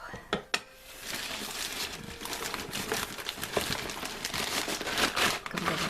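Cardboard and paper crinkle and crumple steadily as a Witch Casket monthly subscription box for October is unwrapped, with a few sharp rustling bursts near the start and continuous close handling throughout.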